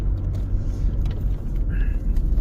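A car drives along a road toward Namdaecheon stream, a steady low engine and road rumble heard from inside, continuous and fairly loud with no talk.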